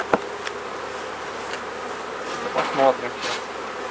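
Buzzing of honey bees from a freshly caught swarm, a steady soft hum with a few brief louder passes near the microphone, and someone speaking briefly.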